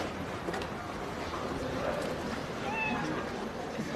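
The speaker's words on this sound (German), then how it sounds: "Das hört sich an wie eine Katze." A faint cat meow rises briefly out of steady background noise, with a second short, higher call shortly after.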